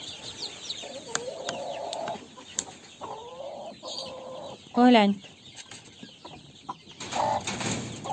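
Domestic hens cluck in a few drawn-out calls at moderate distance, with a brief voice speaking among them.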